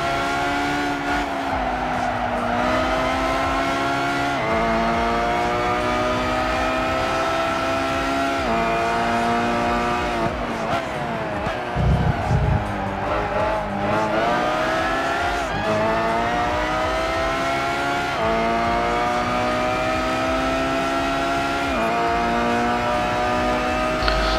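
Race cars in Gran Turismo 5 on the final lap at Tsukuba, engines droning and revving steadily throughout with shifting pitch, occasional tire squeal and cars passing close, loud and continuous with no talk.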